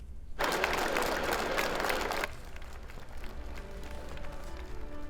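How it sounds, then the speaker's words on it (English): A burst of loud, dense clapping in thanks to essential workers starts abruptly, holds for about two seconds, then cuts off, leaving a quieter background of scattered, fainter sound. "News 12 Long Island would like to join the rest of the nation by clapping because we care"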